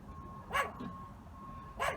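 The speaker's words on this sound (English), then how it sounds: "And his only goal at this point is to bark at me." A small dog barks twice, sharp yips spaced about a second apart, heard from a short distance in a garage during a Hummer H3 upper control arm repair, over a steady low hum.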